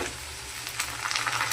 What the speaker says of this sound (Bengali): এবার আমি টমেটো কুচিগুলো দিয়ে দিলাম